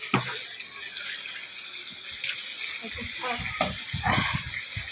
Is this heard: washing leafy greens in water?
yes